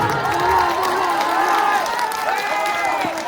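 An audience at a mushaira in Bhadohi claps and cheers, with shouts and excited voices riding over the applause in a lively, crowded hall.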